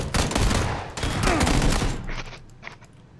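Heavy gunfire erupts in PUBG, rapid bursts of shots rattling loud and close for about two seconds before tapering into a few scattered, fainter rounds.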